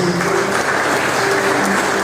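A church congregation at a Portuguese-language communion service claps together in a brief, full burst of steady applause.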